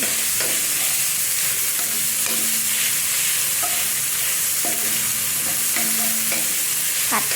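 Minced pork frying for a Thai omelette, sizzling loudly and constantly in the pan, with repeated scraping and clinking strokes of a spatula stirring the meat at irregular intervals.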